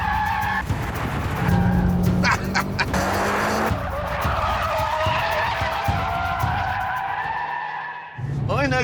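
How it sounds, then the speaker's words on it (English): A Mitsubishi Lancer FQ360 rally car screeches with spinning, skidding tyres over a loud, straining engine, the squeal and roar running continuously and close, with a brief pause near the end. "the engine in this FQ360 model is such a tower of power, it can keep all 4 wheels spinning endlessly."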